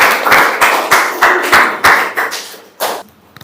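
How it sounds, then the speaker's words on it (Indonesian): An audience claps in a classroom or hall, a series of sharp, rhythmic bursts of hand clapping, close and loud, tapering into a few separate claps near the end. "Tepuk tangan untuk"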